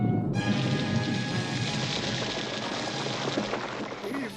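Steady cartoon rain pours down in a dense hiss with scattered drops, constant and fairly close throughout.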